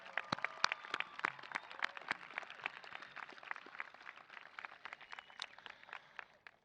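High school graduation crowd applauding speeches, a dense, continuous wash of many hands clapping with sharp individual claps popping out, sustained for several seconds and heard from a distance, fairly quiet.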